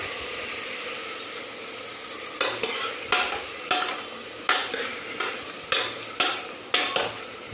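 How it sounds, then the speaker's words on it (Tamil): Mutton sautéing in a pressure cooker pot, a steady close sizzle with a spoon scraping the metal in regular strokes roughly every half second. "நல்லா வதக்கி விடுங்க"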